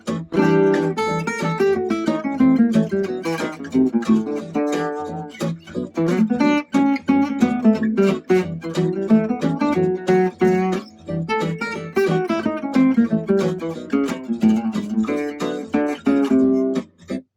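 A melodic instrument plays a quick run of diminished scale notes over sustained dominant seventh chords, moving up and down in continuous phrases with brief pauses; no voices.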